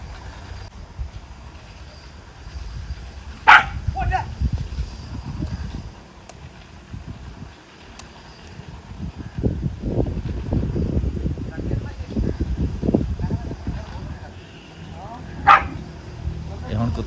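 A farm dog barks in a few sharp bursts at a buffalo in a Pakistani village yard, with people talking loudly nearby throughout.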